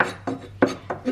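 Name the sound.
chopping sweet paprika finely with a knife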